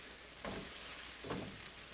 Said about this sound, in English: Sizzling away pretty good.